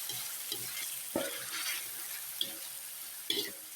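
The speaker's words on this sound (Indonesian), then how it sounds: "selanjutnya kita akan aduk seperti ini ya pemirsa" Teriyaki chicken being stirred in a sizzling frying pan: a steady frying hiss with several sharp scraping and clanking strokes of the utensil spaced about a second apart, heard close with no talking.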